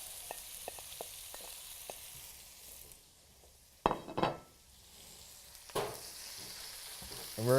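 Onions sauté in a wok with a soft, steady sizzle, punctuated by a few light ticks early on and two louder bursts of stirring and utensil scraping later.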